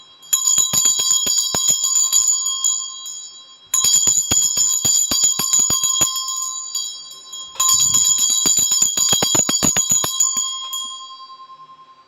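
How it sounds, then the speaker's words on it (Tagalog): A Tibetan bell is struck three times, each strike ringing out bright and shimmering with a long sustained tone that slowly fades before the next hit, close and clear with no talking. "i-ring ko lang yung aking Tibetan bell ha para mag-cleanse yung energy"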